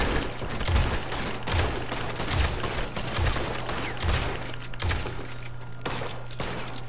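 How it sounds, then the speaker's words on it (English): Gold dual pistols firing in Red Dead Redemption 2 Online during a hideout raid, a steady stream of rapid shots overlapping into dense continuous gunfire at moderate loudness with no pauses. "look at TB's gold dual pistols"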